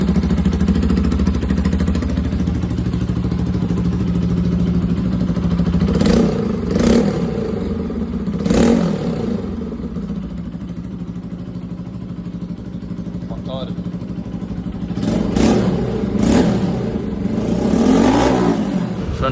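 A Bajaj Pulsar RS200 motorcycle engine starts and idles loudly and close, with several throttle blips that rise and fall in repeated revs.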